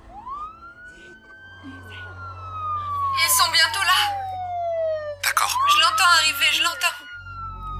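A wailing emergency siren from arriving fire engines and ambulances rises and slowly falls in a long sweep, fairly loud and approaching, with a low engine rumble beneath and a voice talking over it in bursts.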